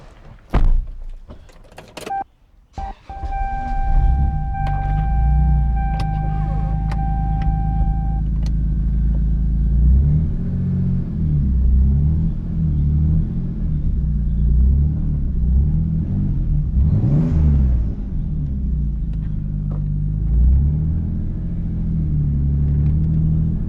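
A car door thunks shut and a 1998 Toyota Supra's engine turns over, then idles with a steady low rumble as the car creeps slowly, close by.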